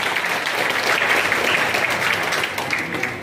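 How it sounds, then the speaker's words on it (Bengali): Loud audience applause at a club prize-giving ceremony, a thick steady wall of many hands clapping for a few seconds, close and sustained with no speech over it. "জোরে করতালি।"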